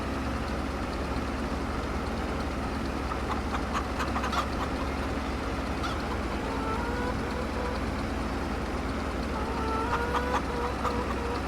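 Chickens in the video game Farming Simulator 22 cluck faintly in scattered bursts over a constant engine-like drone, the fowl calls thin and distant.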